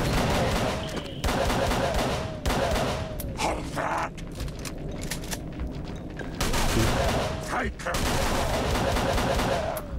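Heavy gunfire in the Call of Cthulhu video game: loud bursts of rapid shots that repeat through most of the stretch, with a brief lull in the middle before the firing resumes at full force.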